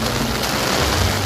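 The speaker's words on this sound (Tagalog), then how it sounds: "medyo malakas po yung ulan" Heavy rain pours steadily along the Pasig River Esplanade, a dense, loud, continuous wash of noise with no break.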